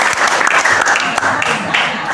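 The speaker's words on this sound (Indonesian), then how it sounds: "Tepuk tangan untuk" An audience breaks into a brief, steady round of applause, with dense clapping filling the whole short moment at close range.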